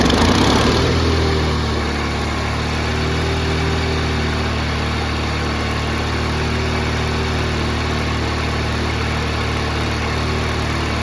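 A big riding lawn mower engine catches and settles into a loud, steady idle with a constant drone and whine, running alone after a brief starting burst; the engine has a suspected carburetor tuning problem.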